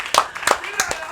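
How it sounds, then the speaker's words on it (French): Applause from a live audience at a concert event at the Institut français: a few sharp, scattered claps sound close by, with voices among them. "on va applaudir très fort s'il vous plaît"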